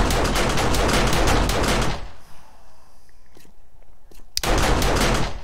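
Automated turrets firing at a zombie horde in 7 Days to Die, rapid loud bursts of gunfire for two seconds, a pause with faint clatter, then another loud burst near the end.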